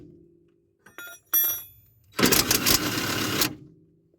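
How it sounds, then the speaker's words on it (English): A cordless impact wrench with a waterlogged, failing battery works on shock bolts of a 2007 Mitsubishi Outlander, giving a couple of short clicks and bursts, then a loud rattling hammering run of about a second and a half, close up. "My impact's busted, so I ain't getting the best results."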